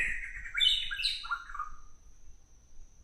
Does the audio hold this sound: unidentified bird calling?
yes